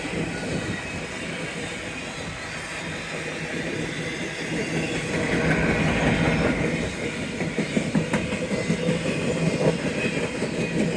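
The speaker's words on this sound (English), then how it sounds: "I think we actually have a BNSF locomotive in the middle of the train." A BNSF westbound intermodal freight train with a mid-train locomotive passing in Kingman, Arizona, a steady rumbling roll that swells midway, with rhythmic clicks of wheels over rail joints toward the end.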